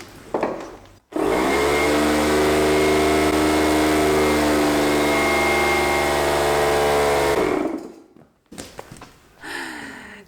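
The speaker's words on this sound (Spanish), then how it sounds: "esto de usar el compresor está muy bien" An air compressor runs loud and close while inflating a slightly flat dumper tyre, a steady droning whine holding for about seven seconds before cutting off, followed by brief clanks and hissing.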